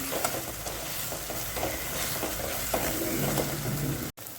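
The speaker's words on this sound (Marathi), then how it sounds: "चांगलं भाजून घ्यायचं" Spice paste with turmeric roasting and being stirred in a pan: a steady close sizzle runs throughout, with scraping stir strokes at irregular intervals, all without talk.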